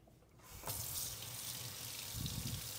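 Hot water from a tankless heater with a recirculating pump gushes from a tap into a sink, starting abruptly after a short quiet moment and running as a steady close hiss with a brief burble near the end.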